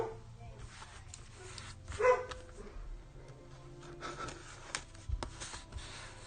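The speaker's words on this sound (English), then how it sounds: "Dog's going wild." A dog barks excitedly indoors, set off by a ringing doorbell, with scattered yips and barks heard at a moderate distance over low background noise and some faint talking.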